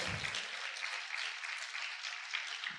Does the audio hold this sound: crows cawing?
no